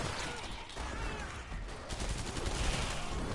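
Dense, rapid gunfire rattles continuously in Killing Floor 2 played on Hard difficulty, a steady burst of overlapping shots at moderate to low volume with no pauses.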